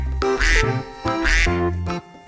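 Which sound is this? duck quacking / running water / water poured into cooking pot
duck quacking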